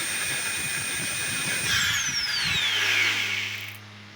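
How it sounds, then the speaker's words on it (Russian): An angle grinder, just fitted with new brushes, whirs steadily at high pitch, then spins down and falls quiet near the end, leaving a low hum. "Назад поставили щетки и запускаем болгарку. Она работает."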